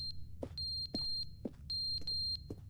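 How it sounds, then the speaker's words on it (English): In The Stanley Parable Ultra Deluxe, a thin, high electronic beep repeats in steady, evenly spaced pulses. It sounds moderately close over a quiet low hum, with no one talking. "What is the beeping?"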